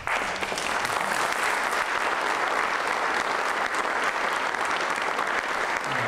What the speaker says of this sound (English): let's give a round of applause to Marlene and Veronica and Kari